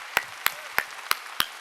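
A church congregation claps during a Sunday worship service: five sharp, evenly spaced claps, close and distinct, with quiet gaps between them.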